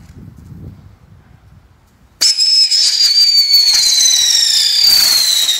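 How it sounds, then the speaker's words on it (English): A firework from the film Independence Day (1996) bursts in after a quiet stretch, with a sharp launch followed by a long, loud whistling screech that slowly falls in pitch and sustained crackling to the end. "You ready for some fireworks? Let's get some fireworks."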